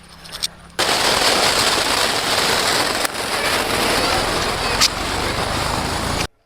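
A large flower pot firecracker (poonthotti) bursts into a loud, sustained crackling and hissing spray after a short quiet start, roaring steadily for several seconds before cutting off abruptly.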